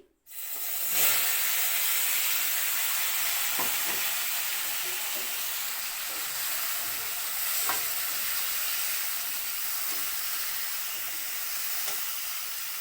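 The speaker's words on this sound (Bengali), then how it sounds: "কাটা আলুর মধ্যে হলুদ লবণ মাখানো আছে এটা গরম তেলে দিয়ে দিই" Turmeric- and salt-coated potato pieces fry in hot oil with a steady, dense sizzle and hiss throughout, broken by faint occasional clicks of stirring.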